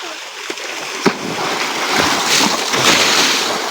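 A person jumps into water at a farm well or tank, one sharp splash near one second followed by churning, sloshing water and broad wash that stays loud to the end, with a couple of smaller knocks before the jump.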